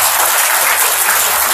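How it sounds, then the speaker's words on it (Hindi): An audience at a spiritual seminar claps together in a dense, steady burst of applause, loud and continuous for the whole moment, with no speech over it. "ताली बजाए अपने लिए।"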